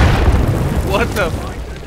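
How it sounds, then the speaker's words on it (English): C4 charge blowing through a wall in the Insurgency video game, a deep booming rumble already underway and fading over about two seconds, with a shouted voice over it. "Oh, they C4 the wall!"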